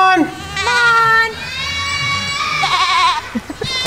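A goat on a farm screams in loud, wavering bleats, with more cries from the herd nearby while people call and talk over the noise.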